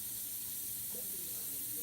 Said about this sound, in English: if you spray anything light with the airbrush